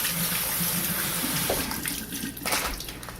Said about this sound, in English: So I'll give these a rinse